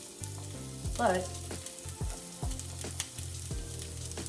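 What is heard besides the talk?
onions sizzling in a skillet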